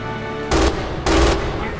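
An MG 42 machine gun firing in Red Orchestra 2, two short, loud rapid-fire bursts close up, separated by a brief pause, over a low background hum.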